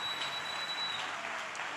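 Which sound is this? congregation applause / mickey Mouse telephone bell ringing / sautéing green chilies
congregation applause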